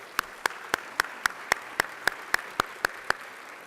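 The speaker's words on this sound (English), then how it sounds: "Give them a round of applause, please." Audience clapping at a fall luncheon in a Dallas hotel ballroom: a steady run of about thirteen sharp, evenly spaced claps, crisp and fairly close, with no talk over them.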